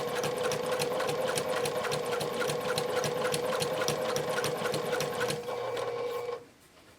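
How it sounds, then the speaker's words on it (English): A sewing machine stitches close to the edge through the layered folds of a no-elastic tie-back fabric face mask, running in a steady, loud, continuous whir with rapid needle ticks before slowing and stopping near the end. "sew those two folds together really close to the edge"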